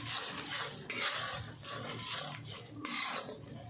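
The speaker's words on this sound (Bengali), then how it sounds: "এবার সমস্ত কিছু ভালো করে কষিয়ে নিতে হবে।" Ground turmeric, chili, coriander and cumin powders are stirred and fried in a pan, a soft rhythmic scraping and rubbing of the spoon in repeated strokes with faint sizzling underneath, quiet and close.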